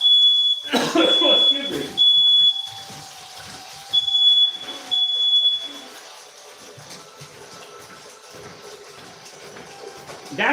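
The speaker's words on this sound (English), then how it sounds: "Ignore the alarm." Smoke alarm beeping in a home kitchen during cooking of spicy chicken and quinoa, sharp high-pitched repeated tones in two bursts, loud and close, over a brief spoken line and kitchen clatter.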